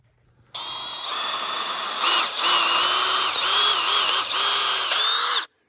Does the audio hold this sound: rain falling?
no